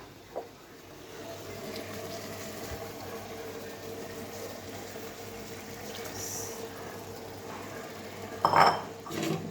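Water is poured and swished in a kitchen bowl while cooking chili paneer, with low running-water hiss and a couple of clattering knocks of the bowl and utensils near the start and end; no talking.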